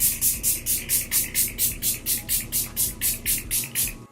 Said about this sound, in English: So I'm just going to use my Too Faced Hangover spray and just spray my